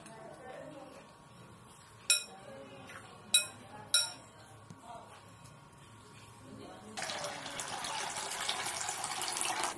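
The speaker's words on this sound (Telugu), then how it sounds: "మన 2 కప్పులు పప్పు ఉందండి, 3 కప్పులు వాటర్ పోసాను" A few sharp metallic clinks of a pot or utensil come first, then a steady rush of water pours into lentils in a pressure cooker, louder and continuous for the last few seconds.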